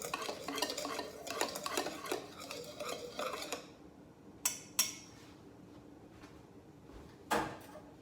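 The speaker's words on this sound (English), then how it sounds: "I'm just choosing to take a whisk and just whisk it up for a minute." Dry biscuit ingredients whisked in a bowl, a rapid rhythmic scraping and clinking of the whisk for several seconds, then a quiet pause broken by a few sharp taps of metal against the bowl.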